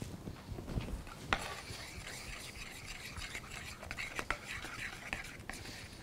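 Chocolate pie filling mix being stirred in a bowl, close scraping and rubbing strokes with occasional sharper clicks of the utensil, continuous and fairly quiet.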